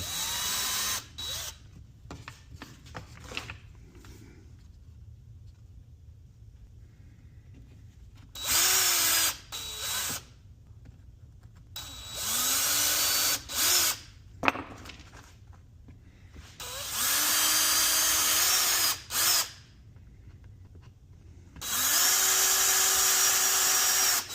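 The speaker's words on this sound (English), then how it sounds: "Just going to mark with the drill head." A power drill runs in several short bursts, each a few seconds long, whirring up and biting into the wooden slats of an Adirondack chair, with quiet pauses between them.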